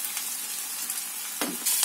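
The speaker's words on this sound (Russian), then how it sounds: "морковь. Перемешиваем хорошо и обжариваем" Carrots and onion frying in a pan, a dense, close, continuous sizzle with a brief stir near the end and no voices.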